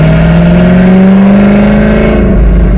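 A supercharged 3V Mustang GT with a Paxton Novi supercharger, running lean, revs hard in third gear, a loud close engine note climbing steadily in pitch with supercharger whine and no talking.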